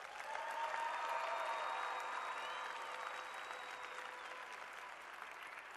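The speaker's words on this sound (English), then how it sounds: "So let's give them a huge round of applause." Sustained crowd applause for coaches and mentors at a robotics regional opening ceremony in Oregon, a steady wash of many hands clapping that holds level throughout.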